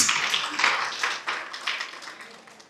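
At an International Women's Day event in Aligarh, an audience applauds the Director with brisk, many-handed clapping that swells, then gradually thins and fades out.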